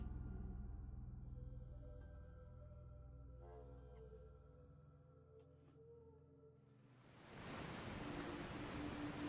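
Steady rain hiss in Fallout 4, continuous broadband wash that thins in the middle and swells louder toward the end, with faint tonal game ambience underneath.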